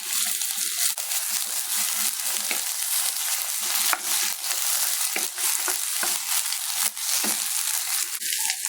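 Onion and ginger-garlic paste fry in a pan for a soya chunk sambal, giving a steady close sizzle with occasional stirring scrapes and small pops throughout.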